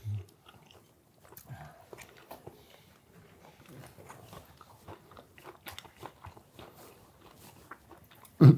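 Close, quiet chewing of a soy-braised chicken wing, with soft irregular crunches and wet mouth sounds as cartilage and bone are worked, ending in a brief louder knock.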